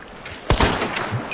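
Gunfire in a first-person shooter video game: a sharp, loud shot or short burst that stands out suddenly against a low background, followed by a brief decaying tail.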